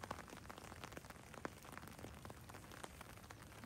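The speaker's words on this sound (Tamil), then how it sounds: "மழை அதிகமாயிடுச்சு." Rain falls during a December trek in Thessaloniki, a quiet steady patter of drops on surfaces with scattered sharper splashes, faint and continuous without talking.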